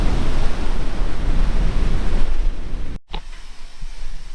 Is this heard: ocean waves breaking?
yes